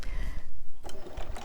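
Domestic sewing machine running a quick back stitch through raw-edge applique fabric, a short mechanical whirr that stops, pauses, then resumes with a few rapid stitches close by.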